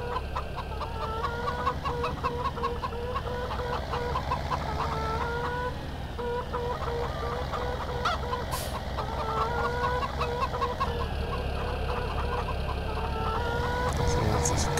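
Chickens cluck and rooster-like calls repeat steadily over a constant low farm-machinery hum in the farming game Landwirtschafts-Simulator 17, the bird sounds close and continuous throughout.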